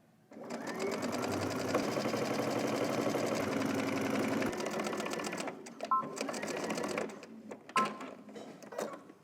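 Sewing machine understitching the facing of a loungewear robe, a close steady rapid whir of stitching for about five seconds, then slowing into shorter bursts and clicks.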